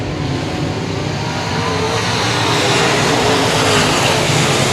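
Race cars at Cotton Bowl Speedway roar back up to speed on a restart, a loud, steady blend of several engines droning and building together without pause, with no talk over it.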